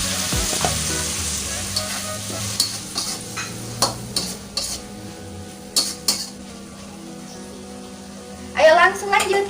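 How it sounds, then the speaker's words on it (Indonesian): Water is added to fish and sweet corn frying in a pan, giving a steady sizzle with scattered clinks and scrapes of a utensil against the pan and a burst of louder hissing near the end, with a person talking over it. "Aku mau kasih air sedikit biar jagungnya juga nggak keras ya."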